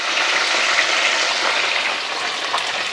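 Honey sriracha chicken wings deep-fry in hot oil with a steady, close and loud sizzling hiss that runs unbroken throughout, with no voices.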